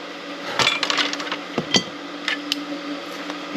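A hammer strikes a fresh weld from a cheap Sefaspe MMA 120 stick welder to try to break the joint, giving a handful of sharp, ringing metallic clinks at irregular intervals.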